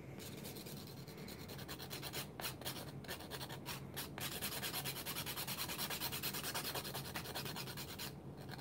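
A nail file rasps steadily back and forth against stiletto-shaped glitter polygel nails, a close, continuous scratchy sanding sound with brief pauses between strokes.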